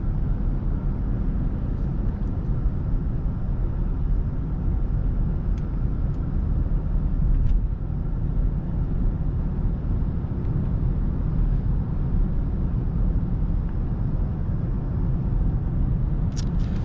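A 2019 BMW 740i xDrive sedan driving, giving a steady low road and engine rumble that stays even and moderately loud throughout, with no voices.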